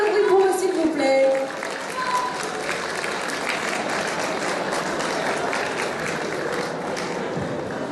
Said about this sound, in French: Voilà, on peut les applaudir encore une fois très très très fort.